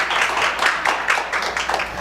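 A round of applause from an audience at a staged business showcase event, steady clapping at moderate volume across the whole stretch with no voices over it.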